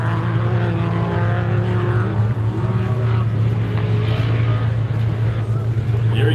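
Bo Robinson's race buggy at the Loveday 400 drones loudly and steadily close by, a dense harmonic engine roar holding level the whole time, with faint crowd voices in the background.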